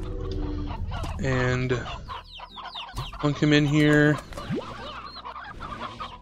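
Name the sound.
Roostro chicken clucking in Slime Rancher video game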